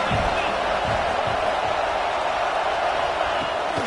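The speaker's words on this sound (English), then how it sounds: "This crowd bringing the energy and noise early." Stadium crowd roar from the College Football 26 video game forms a dense, steady wash of noise that holds at an even level throughout, with no breaks or swells.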